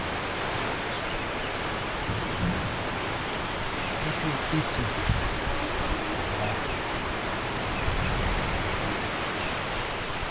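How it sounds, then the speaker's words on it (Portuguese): Heavy rain drums on a leaking roof in a steady dense hiss that fills the whole stretch, with someone speaking briefly over it. "Chovendo forte."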